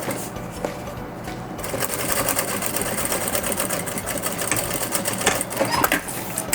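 A sewing machine runs steadily for several seconds, stitching a seam on a fabric box-style cosmetic case, with a continuous close mechanical whir and rapid needle chatter.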